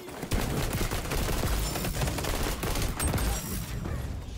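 Dense automatic weapon fire from an XDefiant match, loud and continuous with rapid overlapping bursts running throughout, with no voices heard.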